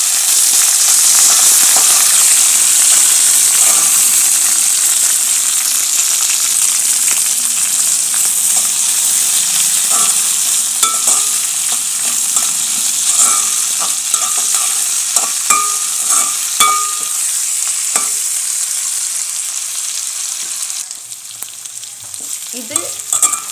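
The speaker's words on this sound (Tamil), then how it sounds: "நன்றாக கிளறணும்." Garlic and green chillies fry in a pan while being stirred, a steady loud sizzle throughout with scattered clinks and scrapes of the spoon, easing slightly near the end.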